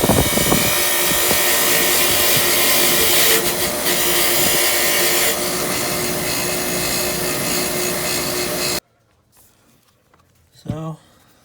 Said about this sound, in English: the wire wheel on the bench grinder really does a nice job at just cleaning this bastard up